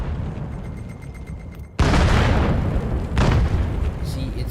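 Grenades going off in the VR shooter VAIL, two heavy booms close together, the first abrupt and loud with a long rumbling tail, then a second blast, all under game noise and voices.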